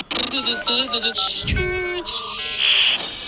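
Landline dial-up telephone tones: a run of short, steady beeps and warbling electronic tones that shift pitch in quick succession, loud and close, ending in a harsher hissing screech.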